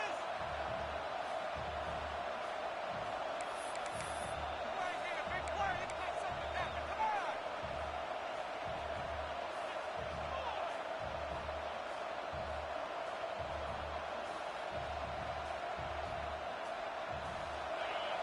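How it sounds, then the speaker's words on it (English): A stadium crowd at an American football game roars in a broad sustained wash, with a commentator talking over it and rhythmic low thumps underneath. "The roar of the crowd trying to fuel this defense to keep them pinned in their own end."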